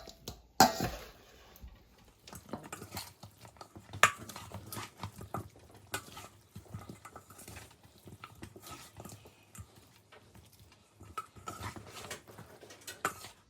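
Chicken wings being tossed in a bowl with ranch garlic parmesan sauce, making faint wet slapping and sloshing with scattered soft clatters of the container, quiet and irregular throughout.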